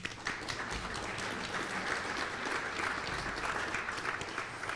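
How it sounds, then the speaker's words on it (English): A roomful of people claps steadily at a teacher of the year presentation, producing an even, moderately loud wash of applause throughout. "I'd like you to give a round of applause to Vic Vasante."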